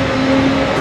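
A rally car engine held at partial throttle in a snowy racing video game, a steady droning hum at constant pitch, loud and close, sustained without revving up, no talk over it.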